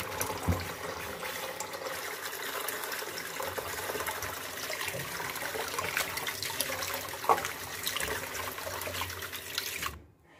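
Water runs steadily over sesame seeds being rinsed, a continuous close splashing flow like a tap filling a container, holding level for about ten seconds before stopping abruptly.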